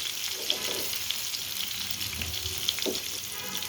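Eggplant pieces frying lightly in a pan, a steady close sizzle of oil with a few soft pops, no voices.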